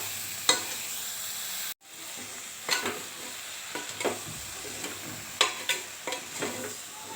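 Drumstick and brinjal pieces fry in hot oil for a homestyle gravy, a steady close sizzle broken by repeated scraping stirs and one brief dropout, with no voices.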